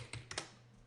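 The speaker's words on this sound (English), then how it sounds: "you can hit return on the keyboard" Quiet tapping on a computer keyboard, with three or four soft, crisp key presses spread across a second, close but faint over a low steady background hum.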